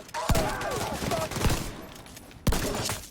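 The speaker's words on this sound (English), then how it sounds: "Man, the shotgun is good." Shotgun blasts in The Division 2 video game: three heavy booming shots spaced about a second apart, each with a short decaying tail, over a busy game background with a faint voice.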